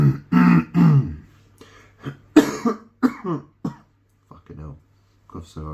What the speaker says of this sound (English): Cough so hard I fart.